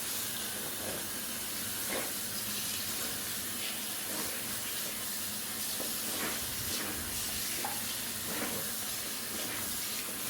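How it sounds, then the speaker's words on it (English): Tap water runs steadily into a sink as a freshly dyed jumpsuit gets a cool rinse, a continuous close hiss and splash with small irregular splashes throughout and no talking. "I'm just going to give it sort of a cool sort of rinse"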